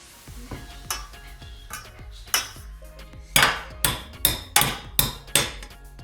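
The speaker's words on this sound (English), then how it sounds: "I need 100 grams of the strawberries that I cut up earlier here in the pot, and I'm going to let little man help me mash these" Cut strawberries are mashed in a pot for jam, with a utensil repeatedly knocking and clanking against the pot in a steady series of sharp, loud thuds that grow stronger toward the end.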